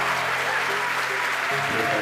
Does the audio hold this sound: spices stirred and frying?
no